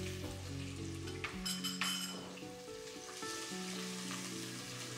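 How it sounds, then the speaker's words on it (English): Sliced, slightly watery onions fry in a pan with a continuous close sizzle and scattered pops, plus a few light clinks of a utensil against the pan. "It's gonna pop a lot since the onion a little watery."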